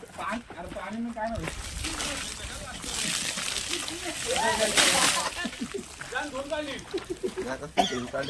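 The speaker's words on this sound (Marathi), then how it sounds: "पाणी आहे पाणी" Water splashing and sloshing during Holi (Dhulivandan) play in a village, with bursts of splashing rising midway, while people talk and call out loudly over it throughout.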